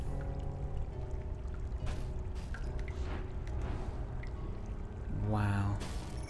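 A character is pushed off into water in the video game Unbound Worlds Apart, with a short, full splash and pour-like gurgle near the end, following steady background game sound and a voice talking.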